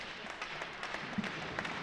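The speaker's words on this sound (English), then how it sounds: "Nice round of applause as McLean gets helped over to the bench." A modest round of applause at a blind hockey game in an arena rink, faint and spread out, with scattered claps running steadily for a couple of seconds.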